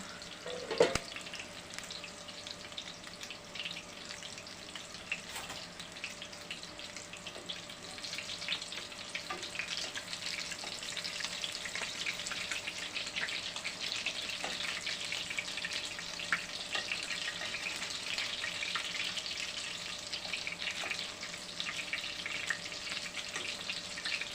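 A continuous soft sizzle and bubbling from cabbage stewing in a pan, steady and close, with occasional faint clinks and no talking.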